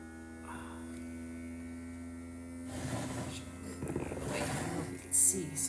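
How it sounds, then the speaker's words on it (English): A vacuum sealer pumps air out of a jar of rosemary-infused olive oil, a steady electric motor hum that grows into a louder buzzing drone partway through, with a brief sharp burst near the end. "So now I'm going to seal the top with my vacuum sealer"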